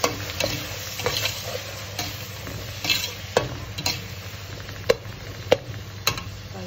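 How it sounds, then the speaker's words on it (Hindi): Tomato masala with chilli, salt and cumin sizzles in a pan while a spoon stirs it, giving a constant frying hiss broken by regular sharp scraping clacks against the pan. "इस तरह से इसको भून लेना है ताकि टमाटरों का कच्चापन दूर हो जाए"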